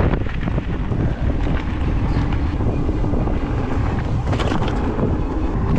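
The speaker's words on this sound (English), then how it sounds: "once you get the wind in your face" Strong wind gusts buffet the microphone while riding an ENGWE M20 dual-battery e-bike, a loud, continuous roaring rumble that swells and eases without a break.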